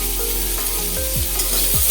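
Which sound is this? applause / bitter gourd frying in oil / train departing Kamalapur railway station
bitter gourd frying in oil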